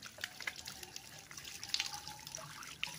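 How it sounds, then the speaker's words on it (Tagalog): Water from a hand pump (poso) on a farm lot in Pila, Laguna, splashing and trickling in faint irregular bursts with small drips, heard close but quietly with no talk. "So i-try natin yung poso. Yan, may tubig siya."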